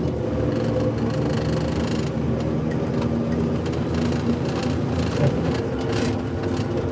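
A skid steer's engine drones steadily close by during nor'easter snow clearing, with a continuous low rumble and faint clanks and no clear talking.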